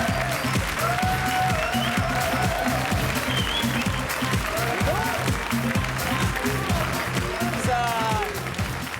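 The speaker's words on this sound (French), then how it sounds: "Allez, on peut les applaudir." A TV game show studio audience claps steadily, with loud, continuous applause and people talking and calling out over it.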